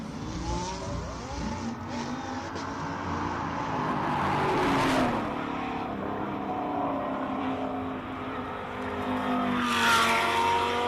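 A pink Lamborghini Huracan race car climbs a hillclimb course, its engine roaring steadily with rising and falling revs as it approaches and passes at close range.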